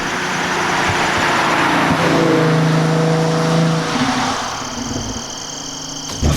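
Audi S4 with a six-speed manual and Quattro all-wheel drive pulls hard under acceleration, its engine note rising and steady at close range with a shift-like dip near the end.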